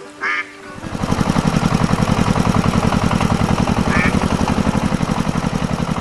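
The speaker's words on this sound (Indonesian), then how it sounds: "Traktor merah mulai bergerak, mengangkat kaki-kaki di tanah yang lembut. Suara mesinnya menggema di tengah keheningan pagi hari." An animated red tractor's engine chugs in a steady rapid rhythm after a short quiet start, loud and close, with a couple of brief quack-like squawks over it.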